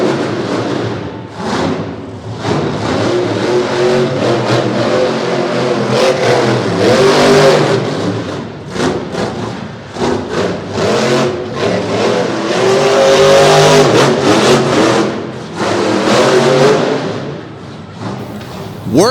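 Monster truck revving through a freestyle run at the Mayhem in Maryland event, a loud roaring engine that surges and drops again and again with thuds, under a commentator's talk.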